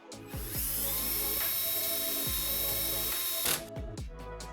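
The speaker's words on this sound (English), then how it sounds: "I'm going to use my power drill for this just because it's faster" A power drill driving screws while assembling a PAX wardrobe frame whirs in long, steady bursts with a loud motor drone and brief pauses between runs, close by.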